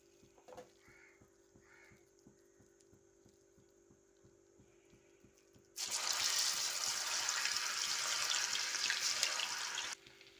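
Meal maker (soya chunk) pakoda batter frying in hot oil, a loud steady sizzle that starts suddenly partway through and runs for about four seconds before cutting off, with crow caws earlier.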